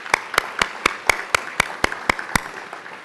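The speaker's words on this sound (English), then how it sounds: "Could we please give them a round of applause?" Applause at a university precision health symposium's opening session, heard as a sparse set of sharp, evenly spaced claps, about ten distinct strikes at a steady rhythm, fairly near and crisp against a quiet room, with no talk over it.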